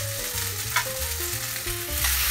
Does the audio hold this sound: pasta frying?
yes